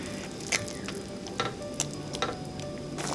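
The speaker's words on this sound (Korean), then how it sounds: "두반장 크게 1큰술, 굴소스 2큰술, 간장 1큰술, 맛술 2큰술, 설탕 2큰술을 넣고 잘 섞어줍니다" A sauce of doubanjiang, oyster sauce, soy sauce, mirin and sugar is stirred in a pot for mapo tofu, giving a quiet, wet bubbling and sloshing with a few soft spoon clinks.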